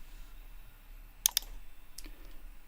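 A quick double click of a computer mouse, faint and close against a quiet room, followed by a softer single click a moment later.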